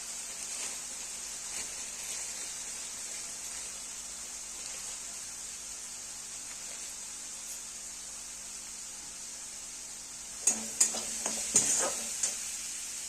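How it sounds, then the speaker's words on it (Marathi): Masala roasting in oil in a pan for a Maharashtrian village-style bhogi vegetable dish, a steady soft sizzle running throughout with a few louder scraping stirs near the end. "जरा चांगलं तेल सुटेपर्यंत भाजून घ्यायचं हे."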